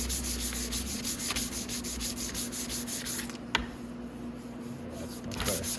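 Fine sandpaper rubs steadily over a filled seam on a part of a Venom 250cc Villain chopper motorcycle under restoration, a close, continuous scratchy hiss with one sharp knock partway through.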